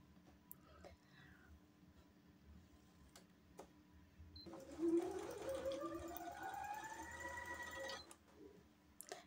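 Sewing machine stitching fabric for a jumpsuit during a cutting and stitching class, faint ticking at first, then a louder run of fast, even stitching for about four seconds in a quiet room, with no talk over it.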